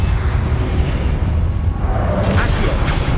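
A loud, booming Repulsor spell blast from Hogwarts Legacy, a dense rumbling burst of force that swells and rolls on for a few seconds amid game combat effects.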